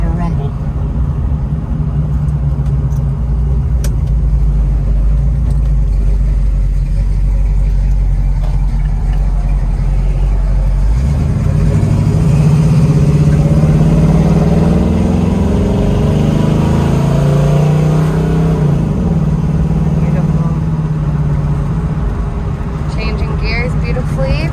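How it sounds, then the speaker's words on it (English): 1968 Pontiac Firebird V8 with a small cam, running close by with a low, steady rumble that deepens and swells partway through, as if revved, while people talk over it. "it's got a small cam in it, so it has a nice little rumble"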